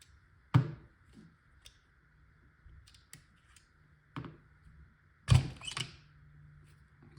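Several sharp metallic clicks and clacks of pins being popped out of a Valken M17 paintball marker, spaced irregularly with small handling noises between them, close and isolated.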